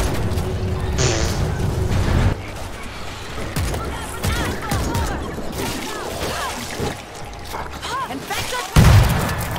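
A bomber zombie blows up in the World War Z video game: a sudden heavy boom cuts in near the end, after scattered gunfire and game noise, with voices talking throughout.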